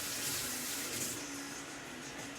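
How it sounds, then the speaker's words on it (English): Kitchen tap running steadily as a knife is rinsed under it while tacos are being prepared, a continuous near hiss of water with no break across the short stretch. "I just have to rinse off my knife."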